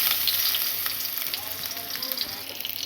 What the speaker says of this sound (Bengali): ভালো করে পেঁয়াজগুলো আমরা লবণের সাথে তেলের সাথে ফ্রাই করে নেব